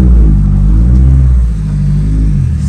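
A rare left-hand-drive car in Mexico gives a loud, deep engine rumble up close, holding steady before easing off slightly partway through.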